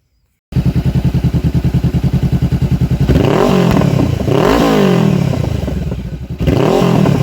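A Honda CBR500R motorcycle engine cranks over with a rapid rhythmic chatter, catches and starts, then runs loud and close with a few throttle blips rising and falling.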